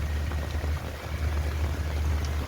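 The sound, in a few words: rain falling at night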